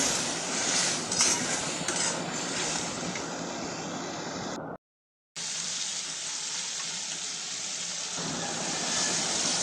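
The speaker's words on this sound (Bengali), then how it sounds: "এখন আমি মশলাগুলোকে কষায় নিতেছি" Spices with onion and garlic sautéing in oil in a pan for a Bengali fish curry, a steady close sizzle with faint utensil clinks, broken by a brief silent gap midway.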